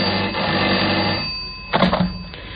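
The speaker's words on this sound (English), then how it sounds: "The telephone rang once again." A telephone bell rings in an old-time radio crime drama. One sustained electric ring is followed by a second short, sharp burst, with a faint hiss underneath.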